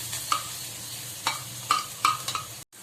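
Masala for Bombay style vada pav frying in a pan, a soft steady sizzle under several short scraping clinks of a spoon stirring against the metal, ending in a brief cut to silence.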